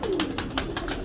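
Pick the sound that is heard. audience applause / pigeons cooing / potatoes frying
pigeons cooing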